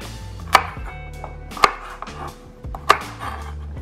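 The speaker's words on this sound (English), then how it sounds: "So I'm just gonna cut the ends off of these carrots" A knife chopping the ends off carrots on a cutting board, three sharp, distinct knocks spaced about a second apart against quiet background rustle.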